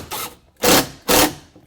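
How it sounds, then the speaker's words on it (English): A screw is driven into a wooden upper cabinet inside a van conversion, heard as three short, close bursts of a power driver with brief gaps between them. "So I think I'll drive a screw in there right now."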